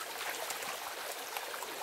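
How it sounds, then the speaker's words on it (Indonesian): A river stream flows near a forest, a steady, even rush and babble of water that continues unbroken throughout, with no voices. "Ini kita lagi di aliran sungai."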